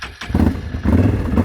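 Can-Am Outlander four-wheeler engine sputtering briefly and then catching, settling into a steady, close, loud idle with a low rumbling throb.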